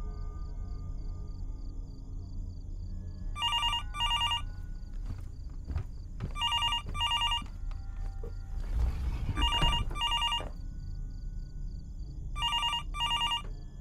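An old telephone rings inside the horror video game Fears to Fathom: Norwood Hitchhike, sounding repeated double-ring bursts at regular intervals over a low ambient hum, with a faint thump in between.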